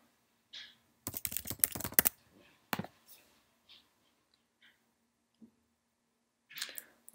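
A password being typed on a computer keyboard, a quick close burst of keystrokes followed by a few scattered single clicks in otherwise quiet surroundings.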